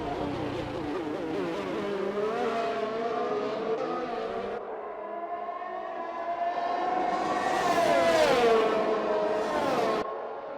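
Racing cars in a sim race at the Austria circuit, engines droning and shifting pitch as one brakes very hard into a corner, with rising and falling engine whine building to a loud peak before cutting away.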